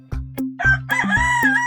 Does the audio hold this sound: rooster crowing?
yes